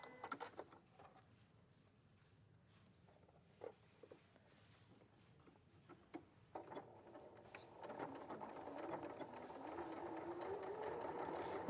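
A sewing machine stitches a seam in fabric, starting with soft intermittent clicks and building into a steady, faint whirring run toward the end, with no talking.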